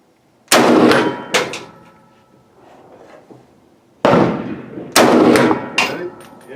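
Century Arms C308 Sporter .308 rifle fired at an outdoor range: three loud, sharp gunshots with ringing decay, the first alone, then two in closer succession after a quiet pause with faint background noise.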